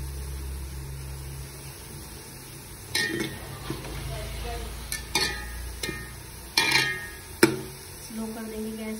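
Browned fried onions being scooped out of hot oil for biryani, a low sizzle under repeated metallic clinks and scrapes of a spoon against the pot, with brief speech.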